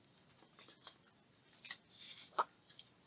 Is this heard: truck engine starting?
no